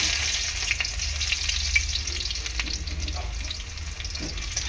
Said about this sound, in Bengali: রসুনটা হালকা করে একটু ভাজার পর